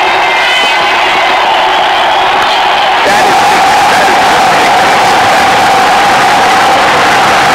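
A stadium crowd cheers loudly during a Pakistan vs India one-day match in the cricket game Real Cricket 2018. The roar starts moderate and swells sharply about three seconds in into a dense, sustained loud wall of crowd noise.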